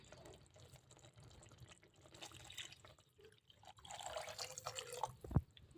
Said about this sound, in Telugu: ఇప్పుడు వాటర్ యాడ్ చేసేసుకుందాం